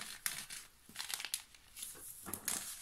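Paper envelopes from an Advent calendar being carefully opened, giving soft, close crinkling and rustling with brief tearing sounds, quiet and alone.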